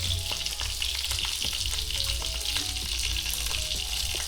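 Pancake batter sizzles and fries steadily in a pan, a constant crackling hiss with faint utensil clinks and no talk.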